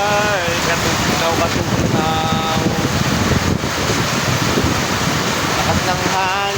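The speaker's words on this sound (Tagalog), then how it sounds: "Lakas ng hangin." Strong wind during heavy rain buffets the microphone with a loud, constant roar and gusty rumble, while shouting voices and brief tonal calls break in over it.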